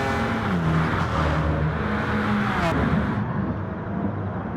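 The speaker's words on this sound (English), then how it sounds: "Oh, it's the BMW, another one of my favorite cars" A BMW M6 race car drives past with a loud, sustained engine drone that shifts pitch as it accelerates, heard close against the wider race noise.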